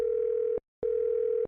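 Telephone ringback tone as a call is placed: two steady electronic beeps, each about half a second, separated by a short gap, clean and close.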